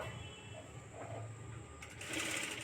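A sewing machine stitches a blouse seam, joining the shoulder and sleeve at a half-inch gap, running as a steady faint whir that grows busier and louder in the final second, with no talk over it.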